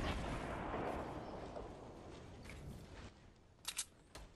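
In the Fortnite video game, a rocket launcher explosion booms and decays into a long rumbling tail, followed by a few faint sharp cracks, all quiet in the mix.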